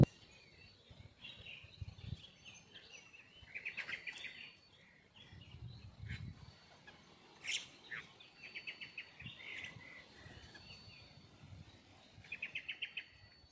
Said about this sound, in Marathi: आमच्या इकडे याला साळुंगी म्हणतात मित्रांनो